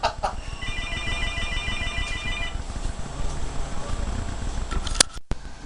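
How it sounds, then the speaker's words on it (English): A telephone rings with a repeating electronic trill during a homebrew session by an 8-gallon pot on the stove, sounding over a low background hum before a few sharp clicks. "Hokey, answer the phone."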